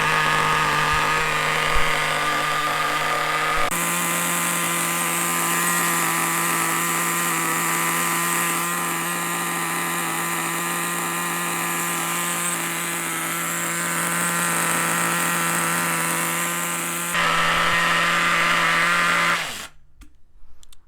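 A nitro RC car engine idling during break-in, a steady, loud, high-pitched buzzing drone that holds for about twenty seconds with slight shifts in pitch, then sputters and cuts out abruptly near the end.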